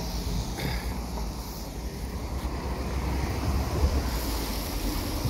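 Steady outdoor wind noise buffets the microphone throughout, a broad continuous rumble with a faint surf-like wash behind it and no talking.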